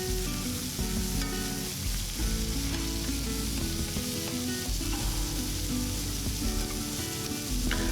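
Stir fry sizzling loudly in a cast iron pan with oil and sesame oil while being stirred; a dense, continuous close sizzle over background music, with no talk.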